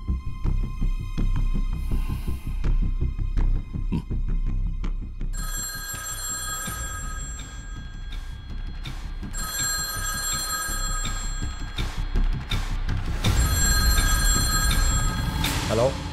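A telephone rings with repeated bell-like tones during a call, layered over a busy mix of music and dialogue, with the ringing fairly loud throughout.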